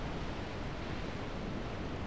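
A waterfall rushes steadily in the Halo 3 video game, a dense, even roar of falling water with no pauses and no voices over it.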